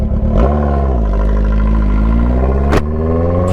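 A car with its muffler adapter taken off revs hard and loud up close, its raw exhaust roaring with a rough, clattering note that steadies into a sustained blare before a sharp blip near the end.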